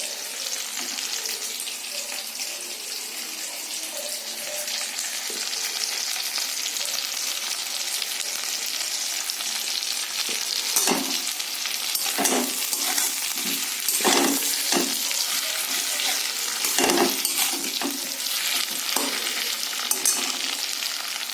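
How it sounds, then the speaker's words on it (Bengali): Ground spice paste of cumin, coriander, ginger and green chili frying in a wok, a steady close sizzle with periodic louder scraping stirs of a ladle in the later half, no voices. "মশলাটা কষানো হয়ে গেছে লাল লাল করে"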